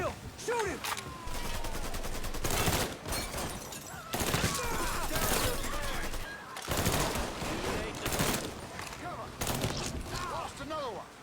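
Gunfire in the video game Mafia III: a dense fusillade of rapid shots and machine-gun bursts crackles loudly and almost without pause, with shouted voices mixed in.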